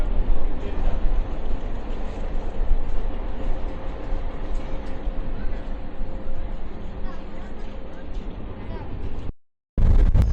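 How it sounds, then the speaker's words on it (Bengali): Train rumbling across the Madhumati bridge in Bangladesh, heard from on board: a continuous, steady rolling roar with faint rhythmic clatter and wind, ending in a brief cutout. "আমাদের ট্রেনটা এই মুহূর্তে মধুমতি সেতু ক্রস করলো"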